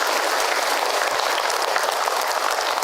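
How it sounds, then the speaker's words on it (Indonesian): Steady, dense applause from an audience at an Islamic question-and-answer talk, an even wash of clapping that stays constant throughout, moderately loud, with no voices over it. "Tepuk tangan buat teteh yang berkah."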